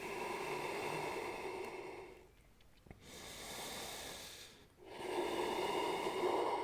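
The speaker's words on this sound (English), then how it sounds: "And we're breathing." Deep breathing during a yoga sequence: steady, close, airy inhales and exhales with two short quiet pauses between breaths, no talking.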